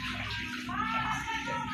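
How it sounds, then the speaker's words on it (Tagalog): Floodwater after a typhoon swirls and splashes inside a flooded house in the Philippines, a close, continuous watery rush. "Ayan po yung baha."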